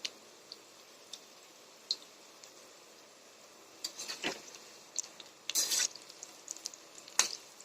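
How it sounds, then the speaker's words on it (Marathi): Soybean chunks deep-frying in hot oil over a medium gas flame, a quiet bubbling sizzle punctuated by scattered sharp pops and clicks, with a few louder crackling bursts near the end. "मध्यम गॅस करून तळून घ्यायचं बघा किती छान क्रिस्पी तळायला"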